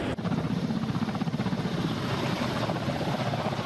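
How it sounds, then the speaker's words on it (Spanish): Military transport helicopters lift off, their rotors producing a steady, loud, close thudding chop over a dense engine roar that fills the whole stretch without pause. "Con el despegue de estos helicópteros, afloran los brotes de la esperanza"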